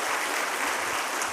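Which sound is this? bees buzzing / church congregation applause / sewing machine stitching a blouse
church congregation applause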